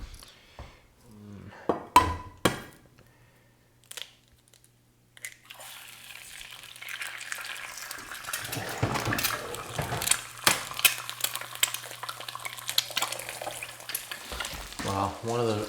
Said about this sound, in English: Anyway, I'm gonna throw these eggs in.